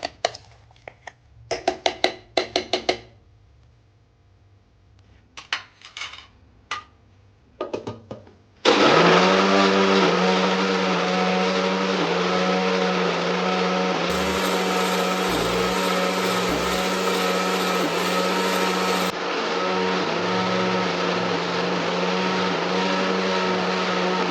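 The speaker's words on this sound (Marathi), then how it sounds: "याच्यात हरभऱ्याची सजा साईडला राहिली आहे ती आता बारीक करते परत" A mixer grinder runs loud and steady, grinding soaked chickpeas fine, with its motor pitch shifting slightly partway through, after a few seconds of scattered clinks and handling sounds beforehand.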